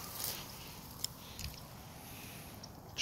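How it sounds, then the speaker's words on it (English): A miniature dachshund chews on a leash outdoors in the sun, giving soft, wet biting and squishing sounds close by with a few sharper clicks. "Chewing up the leash."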